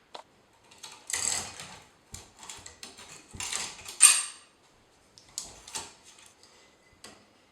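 A bicycle chain being worked off the rear wheel: intermittent metallic rattles, clinks and ratcheting bursts with short pauses between, close and fairly loud.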